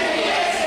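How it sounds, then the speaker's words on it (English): A wrestling crowd roars for Terry Isit, a dense, sustained wash of cheering voices that fills the whole brief moment at steady volume. "the crowd really getting into Terry Izzet"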